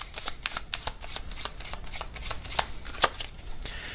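Tarot cards being shuffled close up, a quiet run of rapid crisp riffles and flicks with occasional sharper snaps, continuing for several seconds with no voice.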